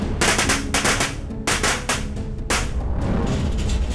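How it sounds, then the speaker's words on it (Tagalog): Firecrackers, legal or illegal, go off in a loud, close barrage of sharp bangs with irregular gaps, ending in a denser, ragged crackle. "Peligroso ang mga paputok, legal o illegal man"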